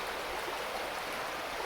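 A small woodland stream flows and trickles continuously, a soft, even watery hiss nearby with nothing else over it.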